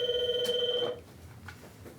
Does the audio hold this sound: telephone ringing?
yes